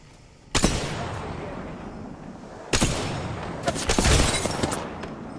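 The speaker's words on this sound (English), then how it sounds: "I sniped the Wraith once too" Sniper rifle shots in the video game Apex Legends: three or four loud, sharp cracks with booming tails, spaced a couple of seconds apart over steady game ambience, with no talking.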